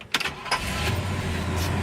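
A 1965 Pontiac Bonneville engine cranks briefly and catches, then settles into a steady low idle rumble, close and moderately loud.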